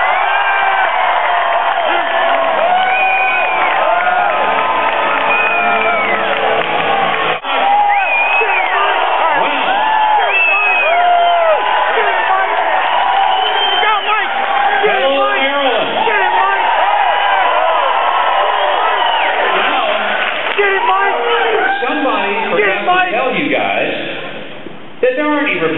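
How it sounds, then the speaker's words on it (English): A campus crowd at the University of Maryland cheers for Mike Huckabee at a 2008 campaign event, with sustained whoops, shouts and scattered applause, dense and loud throughout and mixed with voices. "Terp cheer for Mike Huckabee."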